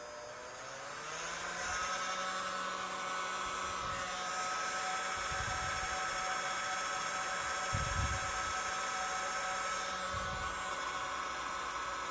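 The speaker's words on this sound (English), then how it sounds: "the first few seconds the fan inside is working at low RPMs" A cordless Bosch or Parkside Performance heat gun runs its fan at low speed, a steady close whirring hum with faint low thumps underneath.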